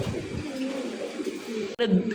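Pigeons coo softly at a pigeon farm, low rolling calls heard close by beneath a voice talking almost the whole time, with a brief sharp knock near the end.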